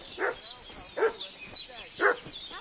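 A dog barks in the video game Kingdom Come 2, three sharp, moderately near barks spaced about a second apart over faint background ambience.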